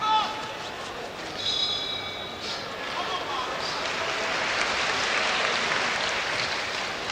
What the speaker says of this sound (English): So the applause there you're getting from the bell of the twin ring here